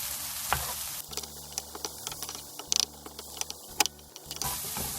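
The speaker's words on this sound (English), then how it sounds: "then mix the eggs and stir-fry the leeks like this" Eggs and leeks stir-fried in a pan with soy sauce, a steady close sizzle broken by repeated scraping and clattering of a spatula against the pan.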